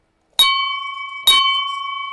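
A bell is struck twice, each a sharp metallic strike followed by a clear, sustained ringing tone that lingers and slowly fades, the second strike arriving about a second after the first, loud and close.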